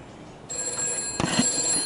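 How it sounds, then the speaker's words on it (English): A landline telephone bell rings in a short metallic burst, fairly faint against a steady background hum. "you should hear the bells ring"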